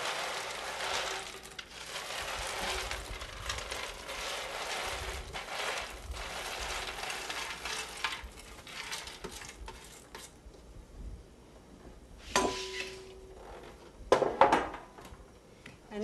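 Bread cubes from a whole loaf tumble into a big skillet with dry rustling, scraping and clattering against the pan, a few sharper knocks standing out near the end, with no voice.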